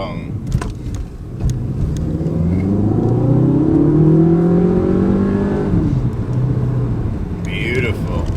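Audi A1 S-line engine revving hard through a rising then falling sweep, with a rasping exhaust note, loud and close, steady for most of the clip.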